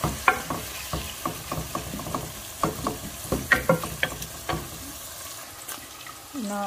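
Onions frying in a pan with garlic and ginger give a steady close sizzle, broken by repeated clicks and scrapes of stirring.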